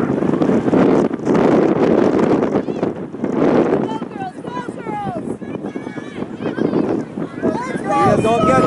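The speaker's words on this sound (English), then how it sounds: "the wind" Wind blusters across the microphone at an outdoor youth girls' soccer tournament game, a loud rumbling roar that surges and eases while people talk and shout nearby.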